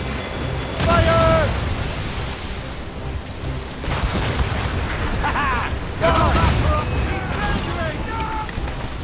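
Naval cannon volleys in Assassin's Creed Rogue: booming broadsides land around one, four and six seconds amid rumbling battle noise, wind and water. Shouted voices and crew calls come and go over the din.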